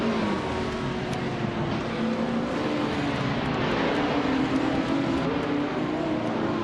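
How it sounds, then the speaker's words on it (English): A 1967 Ford GT40 race car in a racing game, its engine droning loudly and evenly with slight pitch wavers as it holds speed, no talk over it. "Cruciwell 23 is driving a 1967 Ford GT40 MK Wattidoi"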